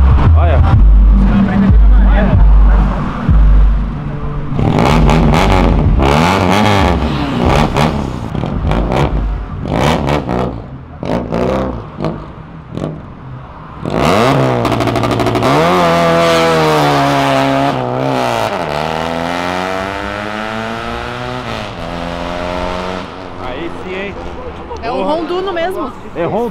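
Two Chevrolet Opala cars rev hard and drift at a car event, their engines roaring up and down in repeated loud sweeping pulls and tire noise, close by, with crowd chatter and voices underneath.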